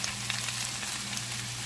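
Garlic sizzling steadily in a hot frying pan while being stirred for a chicken dish, a close, continuous crackle of frying with faint scraping and no voices.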